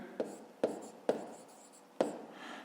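A pen writes out a grade-five math solution by hand, four short distinct scratching strokes close to the mic, each a quick sharp tap followed by a brief scrape, quiet and alone.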